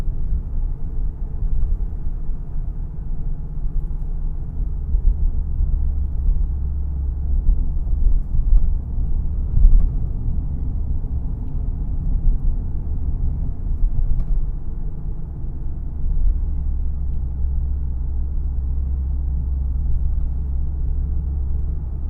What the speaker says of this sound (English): But the road noise isn't bad.